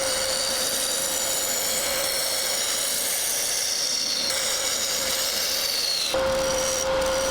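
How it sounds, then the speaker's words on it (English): A bowl gouge cuts a walnut hollowform spinning on a lathe, making a steady, continuous scraping hiss with a constant motor whine underneath, close and even, with a brief change near the end and no talking. "lay my bowl gouge down on its side and do some shear scraping on the outside"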